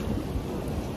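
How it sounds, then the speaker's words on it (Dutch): Heavy rain falls during a storm on Gran Canaria as a dense, loud, steady wash with a low rumble underneath, and no voices are heard. "het regent nu dus gewoon echt best wel hard"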